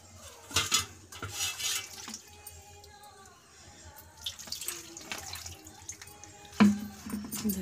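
Water splashes and pours in uneven bursts as freshly churned butter is washed, with soft clinks of a dish or utensil between them, close by and without speech.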